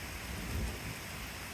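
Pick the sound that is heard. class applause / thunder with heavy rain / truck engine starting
thunder with heavy rain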